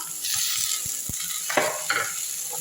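Chopped tomato sautés with onion and green chili in a pan for mint green chicken, giving a soft, steady sizzle. A few light clinks and stirring scrapes sound close by.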